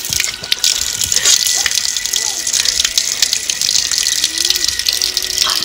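Water gushes steadily out of an outdoor tap or pump in the morning, a loud continuous rushing with splashy spikes and faint voices in the background.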